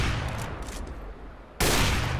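Gunfire in a Counter-Strike style one-on-one match: a dull rattle of shots, a brief lull, then a sudden loud burst of close fire.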